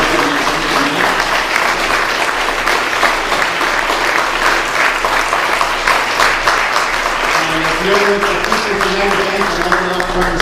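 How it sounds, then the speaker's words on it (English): Warm audience applause at a university and museum mixer event, steady clapping from a room of people lasting several seconds, with faint voices and murmuring creeping in toward the end. "Everybody can applaud Mike Sieber"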